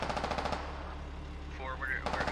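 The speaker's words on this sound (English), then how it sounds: "Some shots incoming here." Rapid automatic gunfire in the military shooter Squad, heard as close, rattling bursts at the start and end with a lull between them, while faint voices are audible.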